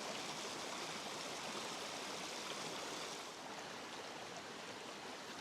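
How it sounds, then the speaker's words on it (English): A small waterfall pours into a mountain creek on a Georgia hiking traverse, a steady broadband rush of falling water that stays even and close throughout, with no voices. "there's a nice little waterfall that comes down"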